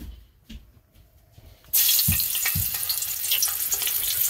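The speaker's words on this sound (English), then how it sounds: "let's put a scotch bonnet in the oil" A scotch bonnet pepper drops into hot oil for Jamaican fried fish, and a loud, steady sizzle starts suddenly partway through after a few quiet kitchen knocks and clinks.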